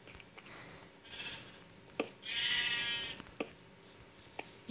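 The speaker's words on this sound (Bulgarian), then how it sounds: "Ето и една овца." A sheep in Minecraft gives a short bleat and then a longer wavering one, fairly close, with small game clicks and footsteps around it.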